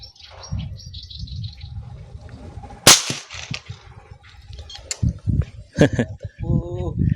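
One sharp, loud gunshot cracks out amid outdoor chatter at a fishing spot in Calumpit, Bulacan, with people talking before and after the blast.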